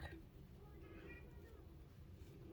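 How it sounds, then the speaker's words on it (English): A house cat meows faintly a couple of times in a quiet room during crochet work, with a low steady background hum. "You can hear my cat meowing there."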